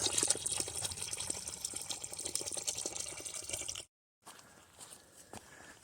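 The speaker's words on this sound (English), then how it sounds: "That is a good flowing pipe spring" Steady rushing and splashing of water flowing from a pipe spring beside a mountain trail, continuous and fairly close, briefly cutting off before resuming more quietly.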